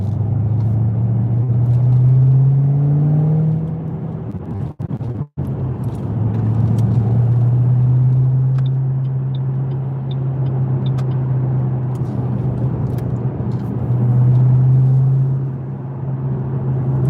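A Shelby car engine drones and rises as it accelerates in traffic, a loud steady rumble inside the cabin that surges, dips briefly, then builds again.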